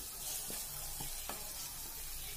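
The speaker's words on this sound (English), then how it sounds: "So my green chilies are also getting fried." Green chilies sizzling and frying in a pan, a steady soft hiss with a few faint stirring taps, no talking.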